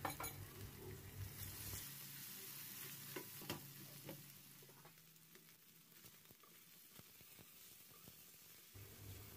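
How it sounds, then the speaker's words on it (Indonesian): Chicken pieces stir-fry in hot oil with ginger in a pan, a quiet, constant sizzle punctuated by repeated sharp spatula scrapes and clicks, with no one speaking. "Kemudian tumis ayamnya"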